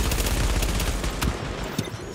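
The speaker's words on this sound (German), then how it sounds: "die haben uns angeschossen" Gunfire in The Division during Dark Zone PvP on PS4: dense rapid bursts of automatic weapon fire crackle continuously, with a few sharper standout shots near the end.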